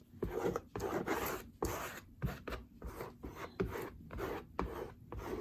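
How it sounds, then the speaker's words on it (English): A scraper drags paint medium together across a palette while painting mixed media flowers, making repeated close, rasping scrapes in short rhythmic strokes, with no talking. "Using a scraper is also a great way to save on your medium, because I can scrape it all together."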